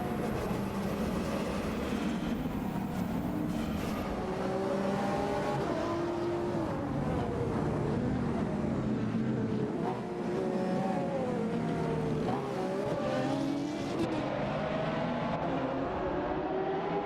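Race cars in an AI racing event speed around a track, their engines a continuous loud roar with pitch sweeping up and down through gear changes and corners, with no talk over it.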